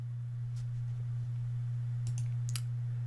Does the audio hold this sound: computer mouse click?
yes